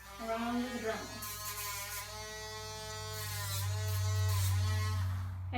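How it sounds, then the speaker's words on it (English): A Dremel rotary tool buzzes steadily up close, grinding a dog's back nails and droning louder toward the end while a person talks over it. "we're going to rotate around the Dremel"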